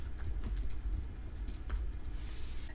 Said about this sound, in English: And then type out a phrase.